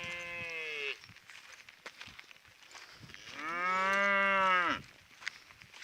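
A young Simmental crossbred bull moos twice, a short call and then a longer, louder drawn-out bellow, close by with faint background noise.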